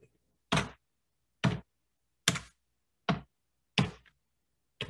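Keys struck one by one on a computer keyboard while entering the ipconfig command: six sharp, separate clicks at a slow, fairly even pace, close and clear with silence between them and no talking.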